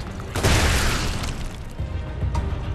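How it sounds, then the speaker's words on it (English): In Gears of War 2, a Ticker creature bursts when shot, giving a loud, close, rumbling boom that rolls on for a couple of seconds with crackling debris and a smaller pop near the end. "when tickers, you shoot them, they explode, obviously"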